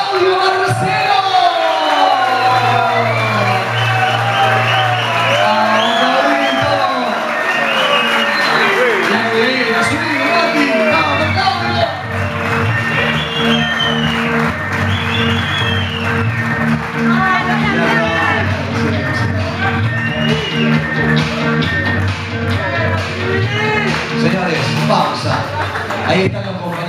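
Colleagues at a company end-of-year dinner party cheer, whoop and shout together in a loud, sustained crowd roar, with overlapping voices and chatter filling the room throughout.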